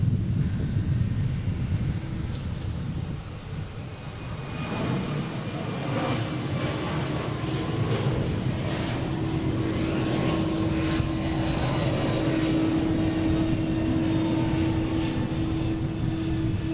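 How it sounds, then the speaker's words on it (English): A Frontier airliner bound for Atlanta roaring down the runway on takeoff at Boston Logan, a steady loud jet engine rumble with a rising whine, wind buffeting the microphone and no talk. "next taking off is Frontier, heading to Atlanta"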